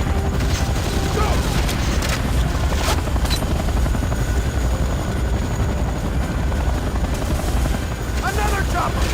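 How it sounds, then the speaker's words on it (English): A helicopter from the video game Command & Conquer: Renegade drones steadily and loudly throughout, with a continuous rotor rumble mixed with bursts of gunfire and explosions. "Another chopper!"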